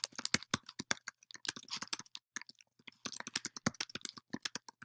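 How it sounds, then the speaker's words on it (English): Rapid, close computer keyboard typing fills the clip with dense clacking keystrokes and a brief pause midway while a comment is written. "I'm going to click on the plus sign there and write in my comment"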